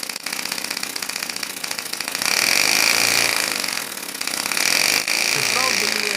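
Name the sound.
3D-printed air motor running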